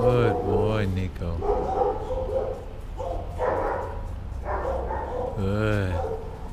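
A four-year-old shelter dog in a kennel barks and yips in short bursts while searching for treats, close by, under a person's steady praising talk.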